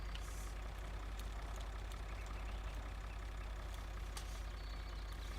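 A tractor engine idles in Farming Simulator 2013, a low, steady drone that holds at an even level throughout with a few faint clicks over it and no talking.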